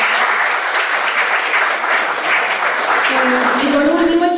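Loud, sustained applause from an audience at a literary panel discussion, steady and dense throughout, with a voice starting to speak over it near the end.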